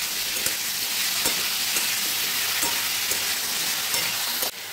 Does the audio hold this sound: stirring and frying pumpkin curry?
yes